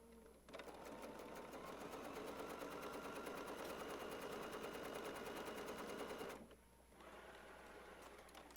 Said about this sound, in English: I'm going to go to the sewing machine